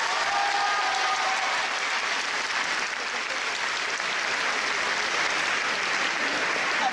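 A large audience applauds at a Plus belle la vie event in Vichy, a dense, steady wash of clapping that holds at full strength for about seven seconds.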